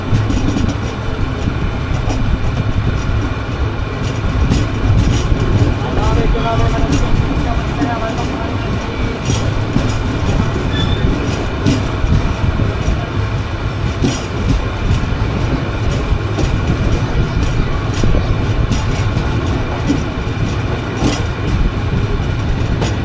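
Banolata Express passenger train running on rails from Dhaka through the Amnura bypass, a loud continuous rumble with rhythmic clickety-clack of wheels over rail joints, heard from aboard, with faint voices in the background.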